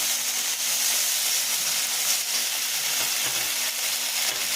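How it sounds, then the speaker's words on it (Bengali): Ginger and cumin paste fries with onions and green chilli in a pan for fish kalia, giving a loud, steady, close hissing sizzle that holds evenly throughout with no voices. "পেঁয়াজগুলো ভাজা হয়ে গেছে, এর মধ্যে আদা জিরে বাটাটা দিয়ে দিলাম।"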